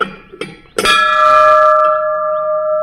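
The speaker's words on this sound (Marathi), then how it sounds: "पायरी चढल्यानंतर तुम्हाला पहिले ते एक घंटा लागेल" A single bright strike of a Ganesh temple's metal bell rings out after a few faint knocks, its clear tone sustaining and slowly fading.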